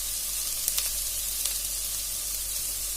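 Crushed ginger, curry leaves and garlic sizzle steadily in a hot pan, a constant close frying hiss with a couple of brief sharp clicks as they are stirred.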